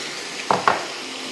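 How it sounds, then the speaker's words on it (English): Soy sauce hits the hot edge of a wok holding minced tofu and oyster mushrooms, giving two quick sharp sizzling bursts over a steady background hiss. "We'll hit it with a little bit of soy sauce off the edge of the wok."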